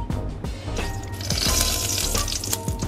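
Hot oil sizzles and crackles in a preheated pot up close, ready for frying anchovies, with scattered pops and a clink of cookware; no talking.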